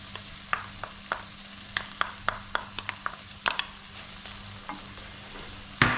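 A spoon scrapes and taps through harissa pasta sauce with grated kashar cheese, sharp irregular clicks over a soft steady sizzle.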